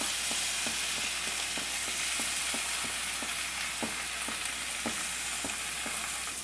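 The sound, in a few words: sautéing spinach and ginger-garlic paste in a pan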